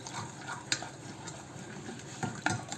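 Kimchi pancake batter is stirred in a bowl, giving soft wet swishing with sharp clinks of utensil against the bowl at irregular intervals, close and fairly quiet.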